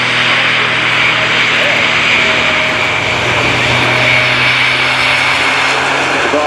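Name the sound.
Grob Tutor aircraft flying an airshow display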